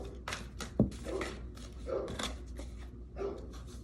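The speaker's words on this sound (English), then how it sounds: "I'm so sorry my dogs are barking" Dogs barking indoors in the background, several short sharp barks scattered through a few seconds, one louder bark standing out near the start, moderately close but not loud.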